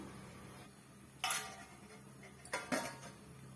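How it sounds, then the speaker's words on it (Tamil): A lid set onto a pot of boiling paruppu rasam, giving a sharp metallic clank followed a moment later by two quicker rattling knocks over a quiet kitchen background. "நம்ம மூடி போட்டுக்கலாம்"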